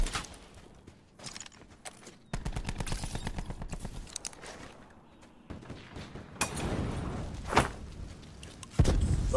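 Rapid automatic gunfire rattles in Call of Duty: Black Ops 4 as quick repeated shots in bursts, some close and sharp, others quieter and farther off, with thuds in between and no speech.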